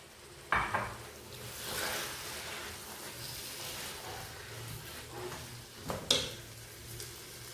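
Five chopped medium tomatoes sautéing in a pan for mutton biryani, a soft steady sizzle with two sharp utensil clanks against the pan and quiet stirring.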